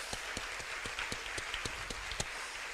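Audience applause at a London poetry slam final, a dense, steady wash of many hands with a few sharper individual claps popping out regularly, somewhat distant and even in level.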